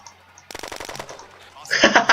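Rapid automatic gunfire in the shooter game Red Crucible Firestorm, a quick burst of about seven close shots followed by a louder harsh blast near the end.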